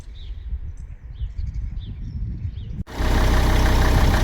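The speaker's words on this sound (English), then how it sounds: "me testing the vacuum on the engine mounts" Quiet outdoor ambience with birdsong and a low idling engine gives way abruptly to a loud, steady rushing hiss as a vacuum pump runs while testing the vacuum engine mounts on a 2003 Volvo XC90 D5.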